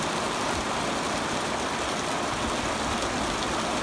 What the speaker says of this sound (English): I'm just glad I'm getting some rain